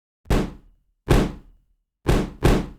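Four separate stomp percussion hits from a sample collection, played dry without any sub enhancer: punchy, thick thuds with a sharp attack and a short decay. The first two are evenly spaced and the last two come quickly one after the other, with silence between.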